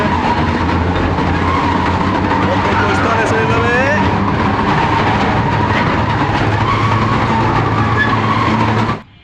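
Electric ride-on train running at a flower park, a steady loud rumble with squealing wheel tones throughout, ending abruptly; people talk over it.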